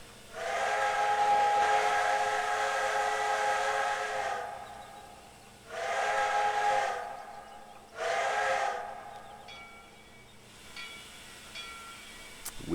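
Steam whistle of a CP F1a Jubilee 4-4-4 locomotive in Trainz 2022, sounding three loud chime blasts: one long pull of about four seconds, then two shorter ones, each cut off cleanly, with a quieter hiss and faint tones between them.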